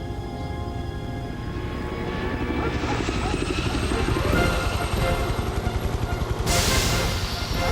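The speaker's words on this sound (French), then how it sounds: "Dan, un des hélicos des Barracudas se dirige vers les Rangers." A helicopter in an animated action series flies steadily and loudly with a continuous rotor and engine drone, swelling slightly toward the end, with no talking over it.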